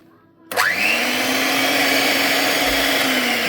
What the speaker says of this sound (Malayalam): ഇനി നമുക്കിതൊന്ന് ബ്ലെൻഡ് ചെയ്തെടുക്കണം